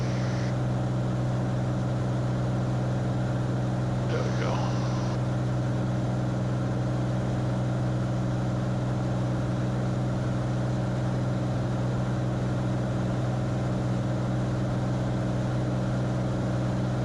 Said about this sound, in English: Feel the engine surge a little bit.